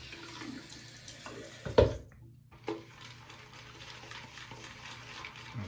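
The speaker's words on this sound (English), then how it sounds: "So I'm gonna add some more water to this brush." Tap water runs onto a shaving brush loaded with Proraso Azur Lime shaving cream, a steady close hiss with a louder splashing burst partway through, then a continuing soft flow.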